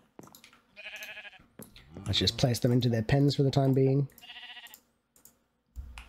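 Two sheep bleat in modded Minecraft survival gameplay, a few short nasal bleats spaced around a man's speech, with soft clicking between them.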